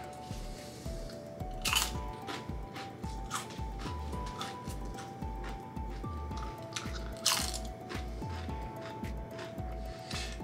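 Top Seedz seed crackers crunch loudly close to the microphone as someone bites and chews in a steady, rhythmic pattern, with a few sharper bites standing out; no talking.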